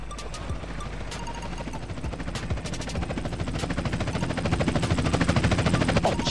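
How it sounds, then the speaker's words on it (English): Helicopter approaching in a Grand Theft Auto San Andreas cutscene, a steady rotor chop building louder over about six seconds, with a dense rapid pulsing and clattering texture throughout. "Chopper inbound! That's gotta be Torino."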